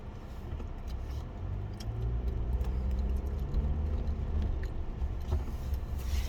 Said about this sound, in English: what is up with these cars, man?